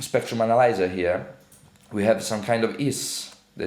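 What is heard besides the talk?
No everyday noise stands out behind the speech.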